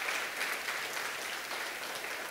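Church congregation applauding loudly during an evangelical service, a dense, steady wash of clapping that holds at even strength for a couple of seconds.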